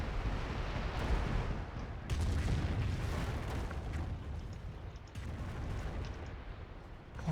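Repeated 25-pounder artillery fire in the World War II strategy game Company of Heroes, a steady run of deep, loud booms and blasts that overlap into a continuous rumbling barrage.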